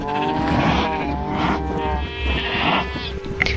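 Cows lowing in a pen in a farming video game, several drawn-out moos overlapping one after another at close range, with no talk.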